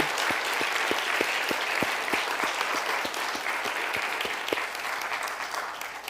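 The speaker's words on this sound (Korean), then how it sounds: "박수로 축하해 주시기 바랍니다." A church congregation claps at an anniversary ordination service, steady dense applause with a few sharper near claps picking out a loose rhythm, tapering slightly toward the end.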